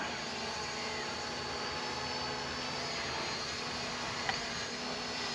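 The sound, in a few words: HolyStone HS700E drone flying an orbit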